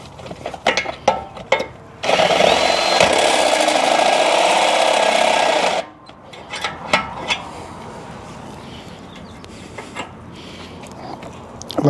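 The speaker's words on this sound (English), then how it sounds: "If I had a better drill bit or a better drill" Power drill boring through metal during a high-steer kit install on a lifted Jeep Gladiator: one loud, steady whine of about four seconds, then scattered clanks and handling noises close by.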